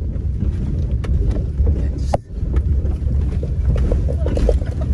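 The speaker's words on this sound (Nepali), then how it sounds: "हावा चल्यो थाहा हावा डेन्जर चल्छ" Strong mountain wind buffets a shaking vehicle on the road from Kushma to Tatopani, a heavy continuous low roar and rumble with gusting surges and a brief dip partway through.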